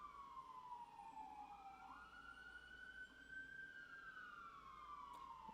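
A siren sweeps up and down in pitch as an emergency vehicle passes, steady and moderately loud over low road rumble, with no talk.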